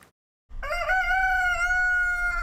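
Rooster crowing from a hobby flock of about 70 chickens in Meade County, Kentucky, a single loud, close, drawn-out call after a brief silence.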